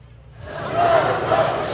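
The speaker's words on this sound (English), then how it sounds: "Several hundred people gathered outside the U.S. Embassy in Beirut to protest" Crowd of protesters outside the US embassy in Beirut, a swelling roar of shouting voices rising from quiet to a loud, sustained chant.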